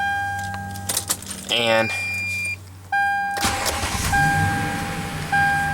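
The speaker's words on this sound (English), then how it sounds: "Key ignition." A key turns in the ignition of a Lexus RX with 48,389 miles, and an engine cranks and catches. Keys jangle and chimes beep before and after the start, and someone speaks over the cabin sounds.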